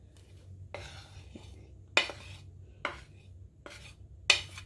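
Utensil scraping and clinking in a mixing bowl as flour powders are stirred into cake batter, with a few sharp, separate strokes over a low steady hum.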